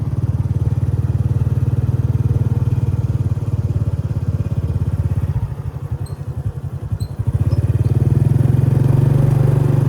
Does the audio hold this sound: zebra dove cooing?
no